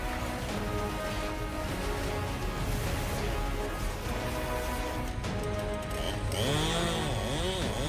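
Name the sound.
chainsaw cutting a tree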